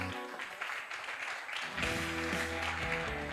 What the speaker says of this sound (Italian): Un applauso a Matteo che ha dovuto...